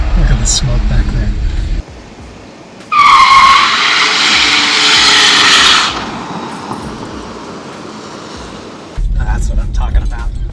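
A Ford F-100 truck spins its rear tires in a smoky burnout, a loud roaring engine with a rising squeal of tire rubber that swells, holds for a few seconds, then tapers off.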